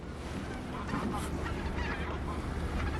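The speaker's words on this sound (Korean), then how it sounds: "저기 오리 봐봐" A duck or goose honks repeatedly outdoors amid a dense, noisy wash of background sound, the calls moderately loud and mixed with faint ambient chatter.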